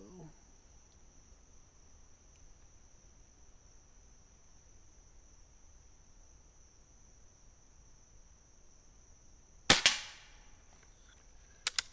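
A single sharp report from a Crosman 1322 Backpacker air pistol snaps out once near the end, loud and close, with a couple of smaller ticks after it against a quiet outdoor background and a steady insect-like whine.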